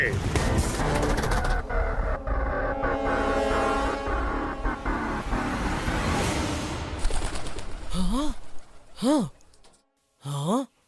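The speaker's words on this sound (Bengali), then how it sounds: "এই আওয়াজটা তো পায়রার।" Music and effects fill most of the clip, then two or three short, breathy pigeon coos stand out near the end, separated by brief silences.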